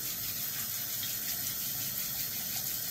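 Tap water runs steadily over reusable cloth wipes as they are rinsed in a kitchen sink, a continuous close splashing rush with no voices.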